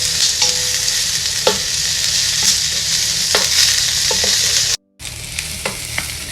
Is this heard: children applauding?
no